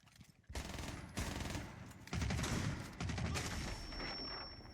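Rapid bursts of gunfire from a Liquid vs FaZe video game match, dense overlapping automatic fire in several sustained volleys with brief gaps between them.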